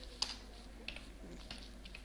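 Keys clicking on a computer keyboard while Java code is typed, a few sparse, faint taps spaced over two seconds against a low steady hum.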